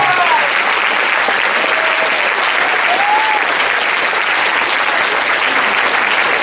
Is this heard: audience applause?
yes